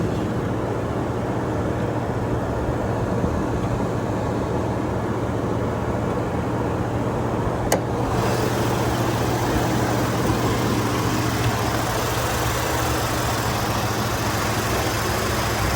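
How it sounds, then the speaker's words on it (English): A pickup truck engine idles steadily with a low, even hum that runs unbroken throughout, and a brief click is heard about halfway through. "Truck's still running."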